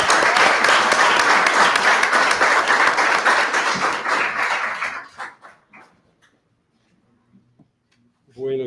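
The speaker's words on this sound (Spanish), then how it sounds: "Un aplauso a la vida, la gente de Medellín." Applause from a poetry reading audience in Medellín, loud and close, dense clapping that fades out around five seconds and leaves near silence, then a brief voice at the end.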